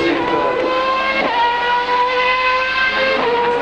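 A two-seater Formula One car from the European Minardi team roars at Donington, its engine holding a loud, sustained high-pitched howl with steady harmonic tones and brief shifts in pitch throughout.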